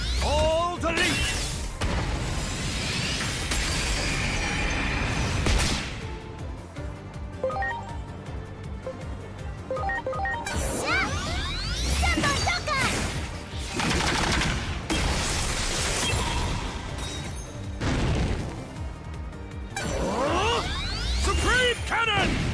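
The All Delete attack from the video game Digimon Time Stranger, a dense, loud barrage of whooshing sweeps and sharp gunfire-like bursts that swell and fade in waves over a steady layer of game sound.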